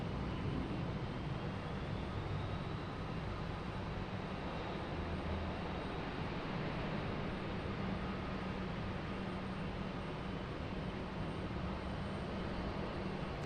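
A jet airliner arriving at Raleigh-Durham airport in the evening, a steady broad engine roar heard at a distance, continuous and even throughout with no voices.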